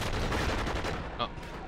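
Gunfire in the PC game Enter the Matrix: a quick burst of shots with a dense, rattling attack, then a sharper single report near the end, close and fairly loud.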